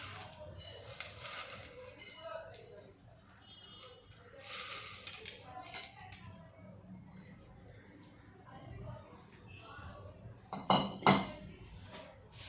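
Semolina sev chivda is scooped onto a plate with scattered clinks and scrapes of a spoon against dishes, coming in short bursts with a sharper clatter near the end, while someone talks over it.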